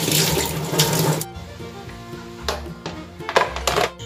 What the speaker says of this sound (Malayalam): ചെമ്മീനൊക്കെ കഴുകി വൃത്തിയാക്കി ഇനി മസാല തേച്ചക്കട്ടെ.